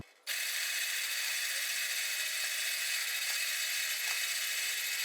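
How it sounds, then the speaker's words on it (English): A power drill runs continuously at a steady, high whine after a brief start, loud and close, with faint clicks in its constant noise, drilling holes into a log for shiitake mushroom plug spawn. "drill a bunch of holes for the pegs which have the mycelium in it"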